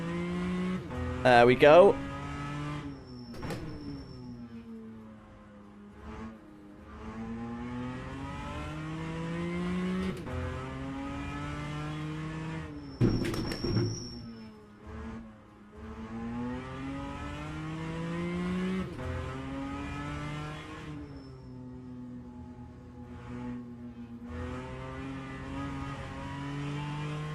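A race car engine in the rFactor 2 racing game revs and winds up repeatedly, rising and falling through the gears with brief lifts and squeals, while someone talks over it.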